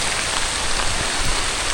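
Steady, dense rain falls close by, a continuous hiss of drops without pause.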